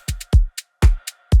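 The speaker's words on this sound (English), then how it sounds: "Throw a few sandy shakers into drum rack and make sure they hit on the offbeat." Offbeat hits alternate with a deep kick: bright, sandy shaker hits on the offbeats of an organic house drum rack groove, crisp and tight, repeating in a steady pattern with no voices.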